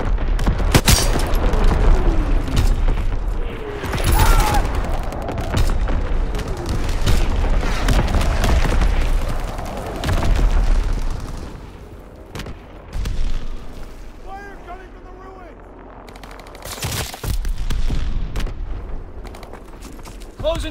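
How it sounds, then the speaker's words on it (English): Incoming enemy artillery in a video game: heavy booming explosions and bursts of gunfire roll in repeatedly, loud and close, with rumbling decays and a lull before another blast. "Incoming enemy artillery."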